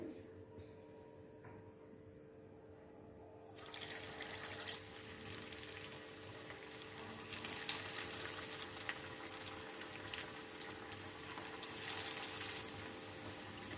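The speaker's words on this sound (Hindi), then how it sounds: "ऑयल में हम कबाब को फ्राई कर लेते हैं" Rice kebabs frying in hot oil in a frying pan, a quiet hum that breaks at about three seconds into a steady crackling sizzle, continuing close and moderately loud to the end.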